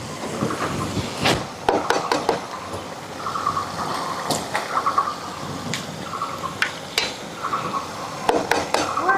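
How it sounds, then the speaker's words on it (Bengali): Fiddlehead fern greens being fried in a pan to dry off their water, with repeated clinks and scrapes of a utensil against the metal over a low, steady background. "জলটা একটু শুকানোর অবধি ভাজে নেব একটু শাকটা"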